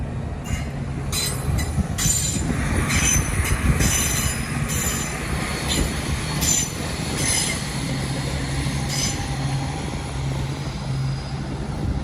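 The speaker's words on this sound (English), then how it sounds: "That's another LNER Azuma set, bound for London King's Cross, stopping at all LNER stations en route." An LNER Azuma passenger train passes through Doncaster station, giving a loud, steady rumble of wheels on rail with repeated high squeals and clicks for about twelve seconds, and no voices.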